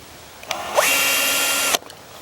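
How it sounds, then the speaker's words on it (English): A power drill bores through the fiberglass dump station door of an RV, a close, steady whine starting up and running for about a second before cutting off, with a few light clicks around it. "if you've seen any of my other videos on drilling fiberglass, you know that I start backwards"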